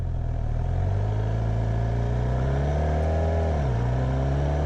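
A motorcycle engine runs steadily while being ridden, with a dip in pitch near the end as the rider shifts from first into second gear. The drone is close, continuous and loud, with no talk.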